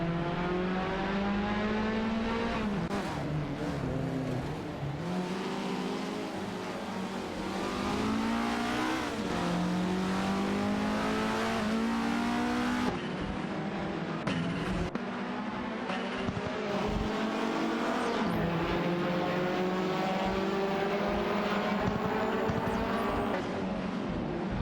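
Video-game race cars, including a BMW and an Alpine A110, roar in sustained engine drone, revving up and down as they race; one continuous loud mix of engines with no talk.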